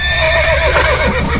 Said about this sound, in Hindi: घोड़े आगे नहीं जाना चाहते,